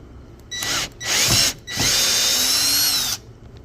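A power drill drives Phillips screws from interior trim during disassembly of an IROC, three short high whirring bursts with brief pauses between, close and loud with no talk.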